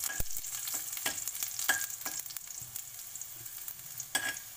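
Crushed garlic frying in hot oil in a kadai, a soft steady sizzle with a few light scrapes and clinks of stirring, close and fairly quiet.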